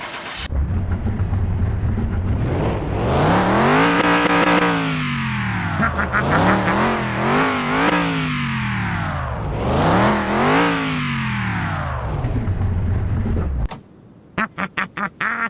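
A barn-find Ford Bronco, sitting unused for more than ten years, cranks and fires up, then runs loud and close with rough, surging revs that rise and fall in repeated swells before cutting off into a few sharp knocks.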